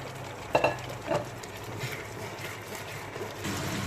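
Ginger and garlic paste masala fries in a pan with a soft, steady sizzle, punctuated by a few quiet stirring scrapes and knocks.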